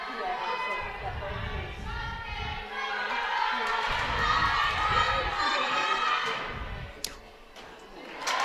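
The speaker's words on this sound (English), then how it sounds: "Crowd now starting to hype up Garrett." Crowd noise at a school varsity sports event, a steady broad roar of spectators with rising cheers and shouts, heard up close with an announcer-style voice and thumping footfalls intermittently underneath.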